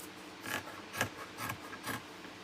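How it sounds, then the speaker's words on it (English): Fabric edges of a cushion being trimmed, four quiet rasping snips in an even rhythm, close and soft, with no talking. "I'm just going to trim these little edges"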